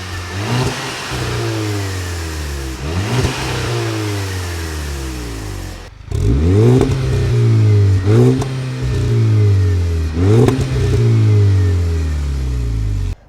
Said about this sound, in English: We're going to go out, warm it up and get a little exhaust note.